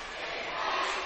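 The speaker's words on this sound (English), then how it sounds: "The crowd has come to life for both teams." Crowd at a boys' high school basketball game cheering in overtime, a brief steady roar of many voices without distinct individual words.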